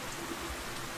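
Steady rain in the video game World End Syndrome hisses evenly throughout, a soft continuous wash with faint patter, no voices.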